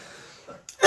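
A single sharp cough bursts out in a podcast studio, followed quickly by a second louder throaty burst, close to the microphone after a quiet moment.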